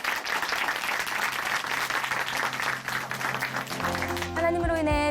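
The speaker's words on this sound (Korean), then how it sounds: "다시 한번 큰 박수 보내드리겠습니다." A church congregation gives loud, sustained applause for several seconds, which then fades out as music begins at the end.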